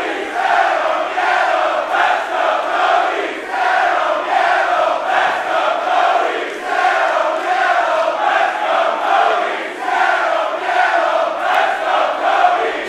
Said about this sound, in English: now they're chanting for Penta.